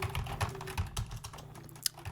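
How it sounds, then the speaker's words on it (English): Keys clatter on a computer keyboard during a UE4 C++ coding session, a quick irregular run of close, light taps with one sharper click near the end, no voice over it. "Why do I keep typing a D in there?"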